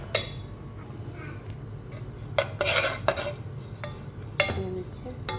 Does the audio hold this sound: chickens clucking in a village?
no